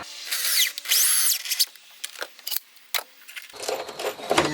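A power drill drives a 3-inch deck screw into a wooden shelf support in a wood shop, giving a few loud, close whirring bursts that rise in pitch, followed by scattered clicks and handling clatter.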